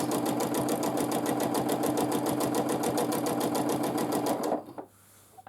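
A sewing machine free-motion quilts a wavy line with thread, running at a fast, steady stitch rhythm up close and loud, then stopping abruptly near the end.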